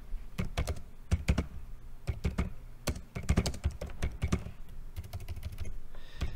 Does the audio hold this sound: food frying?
no